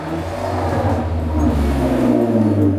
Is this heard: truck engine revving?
yes